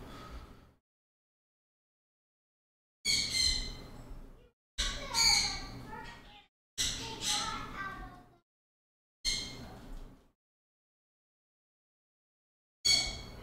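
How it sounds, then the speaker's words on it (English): A pet bird squawks and chirps in several loud, harsh bursts of about a second or two each, separated by silences, close to the microphone with no talk. "My bird sounds super upset today for some reason."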